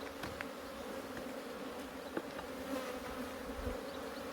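Cold honeybees on comb hum in a steady, close, continuous drone as an Aloe hive is opened on a chilly morning, with a few faint taps and no talking.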